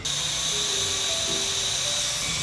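A small handheld fan running at high speed gives a steady, close, blower-like whirring hiss with a thin motor whine that holds constant throughout.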